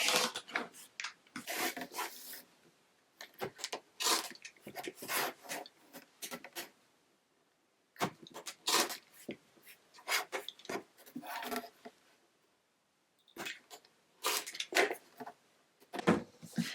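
Scissors or a rotary cutter slicing quilting fabric apart along a drawn line to separate half square triangles, heard as repeated rasping cuts in several bursts with short pauses between, close and fairly quiet.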